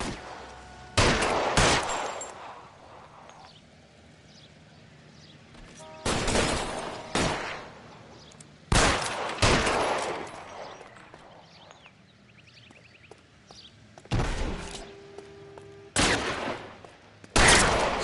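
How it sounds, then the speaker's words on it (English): Suppressing gunfire in the video game LA Noire comes in loud, separate volleys of sharp shots spaced a few seconds apart, with quieter gaps of ambience between bursts. "I'll lay down some suppression fire."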